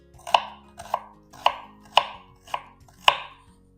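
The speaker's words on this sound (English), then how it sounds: "while I cut the second half of this onion" A knife chops through an onion on a cutting board in six separate, crisp strokes at an uneven pace, loud and close, with no voices.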